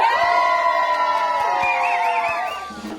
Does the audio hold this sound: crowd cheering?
yes